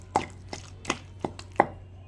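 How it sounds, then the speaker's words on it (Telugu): Gongura leaves are pounded for chutney in roughly five sharp, evenly spaced thuds over about two seconds, close and distinct with no talking. "గోంగూర వేసుకుందాం ఇప్పుడు మనం. ఇదిగా నూరుకుందాము."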